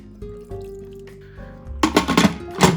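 Water poured into an Instant Pot for minestrone soup, a rushing splash that starts abruptly partway through and swells in uneven surges after quieter kitchen clatter.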